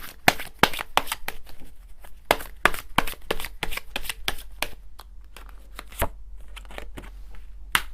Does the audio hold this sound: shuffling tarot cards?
yes